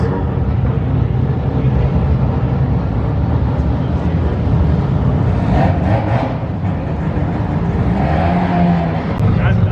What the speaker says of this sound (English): RX3 here, built by Monster Performance